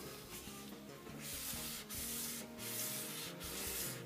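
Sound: sanding patina off a Mora knife blade with 1000 grit sandpaper

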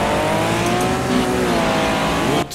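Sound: car accelerating in a racing video game

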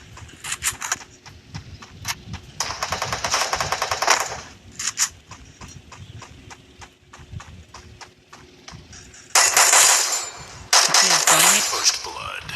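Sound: gunfire in video game Free Fire

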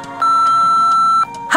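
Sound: answering machine beep in the Nancy Drew video game

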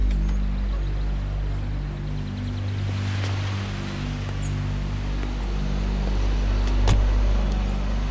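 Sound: car engine

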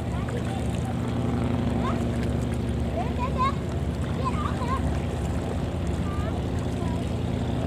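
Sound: festival boats gathering on the river

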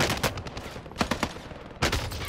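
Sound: gunshots from a video game (Caldera)

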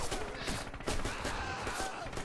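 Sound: gunfire in the video game Red Orchestra 2

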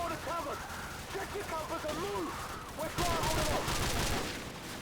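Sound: gunfire in the video game Call of Duty 4

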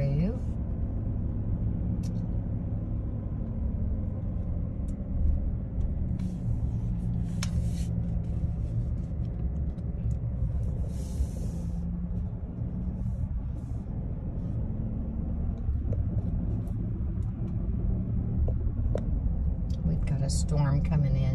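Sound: car driving through a neighborhood

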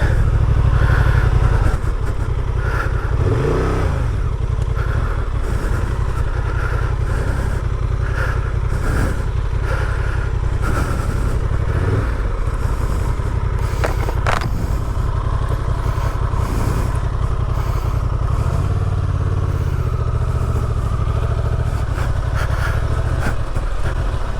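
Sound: Honda Transalp 750 motorcycle riding on gravel

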